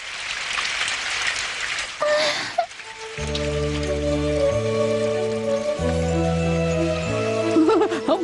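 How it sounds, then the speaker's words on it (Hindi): Steady cartoon rainfall hisses across the whole scene, loud and continuous, soon joined by a bright plucked music cue that plays over the downpour. "बारिश बारिश हो रही है"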